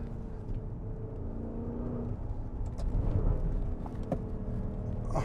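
2021 Maserati Levante Trofeo SUV accelerating hard, a low engine roar that swells and builds steadily from inside the cabin, with a few faint clicks and no talking.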